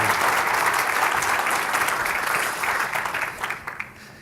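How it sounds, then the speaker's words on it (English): Sustained applause from a conference audience at a morning keynote in Oregon, dense steady clapping that fills the room before gradually thinning out toward the end. "Let's give him a round of applause."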